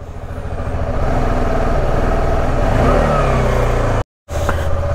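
A car engine hums and revs steadily at close range while being driven out of a crowded parking building, with a brief cut in sound near the end.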